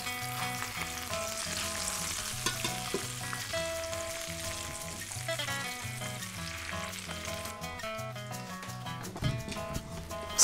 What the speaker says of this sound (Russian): В сковороде все шипит и шкварчит